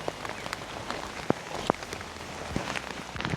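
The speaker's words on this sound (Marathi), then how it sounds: "त्यातमध्ये पाऊस येतोय म्हणजे काय बोलायचं आता." Steady rain patters on surfaces on the road between Harne and Dapoli, with a dense close hiss of drops and a few sharper individual taps.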